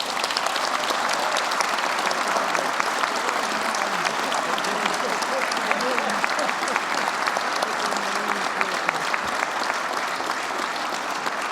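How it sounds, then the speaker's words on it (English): An audience claps for Massachusetts Governor Deval Patrick, dense, sustained applause filling the room at a steady level, with faint voices mixed in. "Let's give him a round of applause"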